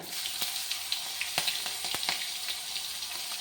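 Onion, green chili and ginger fry in a pan over medium heat with a steady close sizzle and occasional sharp pops and crackles.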